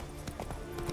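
Hooves of Roach, the horse in The Witcher 3, clip-clop in a quick run under a faint game soundscape, with a short soft burst of rapid beats and no voices.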